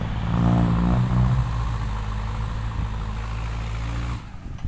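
A car engine idles with a deep, loud exhaust rumble, revving slightly at the start, then settling into a steady throaty drone close by.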